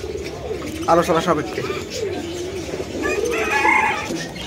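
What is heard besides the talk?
pigeons cooing, homer racing pigeons at a bird shop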